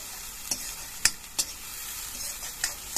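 Onion and garlic with asafoetida fry in a pan, a constant soft sizzle broken by several sharp clicks and scrapes as a spoon stirs.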